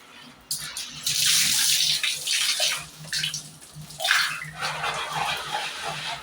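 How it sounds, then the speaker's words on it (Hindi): Water splashes and pours over bathroom taps while they are scrubbed clean, in close bursts that rise, pause and resume. "ये ज़रा सा रगड़ने पे और पानी डालने पे आप देखिए ऐसे चमक जाएंगे मेरे टैप्स"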